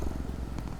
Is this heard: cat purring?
yes